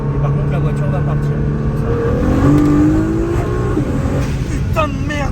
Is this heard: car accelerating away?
yes